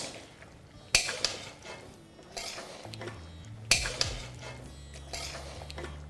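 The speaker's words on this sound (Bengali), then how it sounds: "এবার ডালটাকে আপনারা লাউ আর আলুর সাথে ভালো করে মিশিয়ে নিন" Masoor dal being stirred together with bottle gourd and potato in a pot, with scraping and clinking of a spoon against the vessel in a few distinct bursts, close and moderately loud, no talking.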